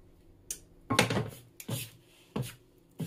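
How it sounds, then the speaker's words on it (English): Flatbread dough mixture being stirred in a bowl, a few separate scraping, knocking strokes at irregular intervals, close but soft, with no talking. "I'm going to start stirring it just a little bit."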